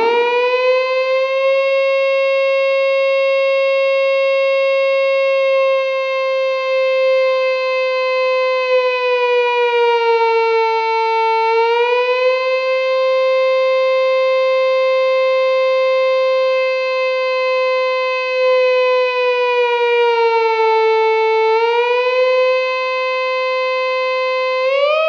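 A Spaceman Effects Sputnik III germanium fuzz pedal set to mimic an air raid siren: a loud, sustained electronic wail with rich harmonics that slowly dips and rises in pitch a couple of times, heard alone and unbroken.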